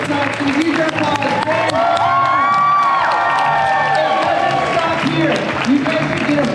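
An audience at a fan convention in Tampa, at a Ben Barnes panel, breaks into sustained applause mixed with cheers, whoops and shouts, a dense continuous crowd roar throughout.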